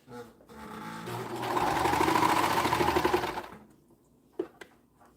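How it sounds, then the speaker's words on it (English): A sewing machine stitches a cuff in one steady, loud run of about three seconds, then stops, leaving a short quiet stretch broken by a single sharp click near the end. "I'll sew this cuff."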